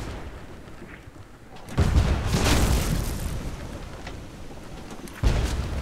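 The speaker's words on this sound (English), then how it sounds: "Front cannon" A ship's front cannon fires in the video game Blazing Sails, two loud booming blasts with rumbling tails, the second near the end, over a windy, rain-like sea ambience.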